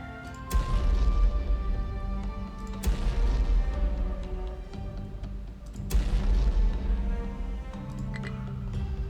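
Repeated heavy gun blasts from a WWII PT boat in the naval combat game War on the Sea, three big booming shots spaced a few seconds apart over a continuous rumbling engine and battle din.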